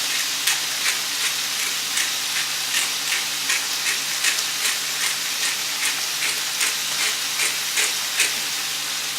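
Seasoned pork sizzles steadily in a hot pan for peppered pork pitas, a continuous close frying hiss with regular crackling pops and no voices.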